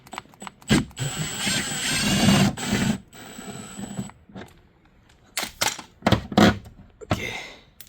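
Ratcheting and metallic tool clicks from taking out a 10 mm bolt on a 2004-2009 Toyota Prius headlight, heard as several close bursts of clicking and scraping with pauses between them, no talking.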